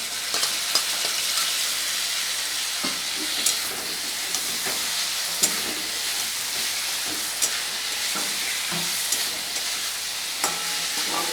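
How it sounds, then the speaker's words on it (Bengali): Grated tomato fries in a hot pan for a Bengali home-cooked curry, giving a steady, close hiss and sizzle broken by occasional soft pops and stirring clicks. "এর মধ্যে আমি একটা টমেটো ঘষে রেখেছি সেটা দিয়ে দিলাম"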